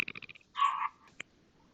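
A dog heard close by, giving a short yelp or bark after a few quick scratchy sounds, then a brief sharp click, fairly faint and with no talk.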